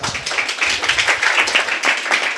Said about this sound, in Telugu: చప్పట్లు కొడతాడా?